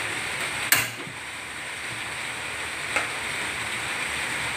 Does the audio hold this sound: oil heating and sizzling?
yes